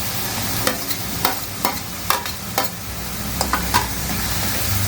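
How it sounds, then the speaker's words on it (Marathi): Tomatoes are stirred into onions frying in a pan, with a steady sizzle under a series of sharp, evenly spaced spoon scrapes and clicks against the pan, close and fairly loud. "आता मी टोमॅटो टाकणार आहे."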